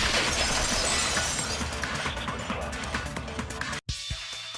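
A vase shattering in the game Danganronpa 2, loud crashing breakage with scattered fragments rattling down, then a sudden brief cut to silence and faint trailing debris.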